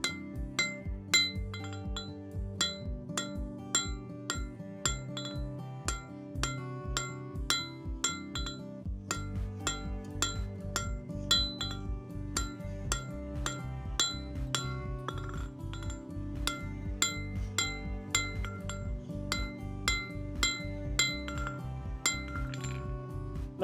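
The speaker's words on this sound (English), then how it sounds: "So I can come over here and forge like this." A hammer hand-forges a small metal flower on an anvil, delivering a long run of sharp, ringing metallic strikes in a steady rhythm, close and clear.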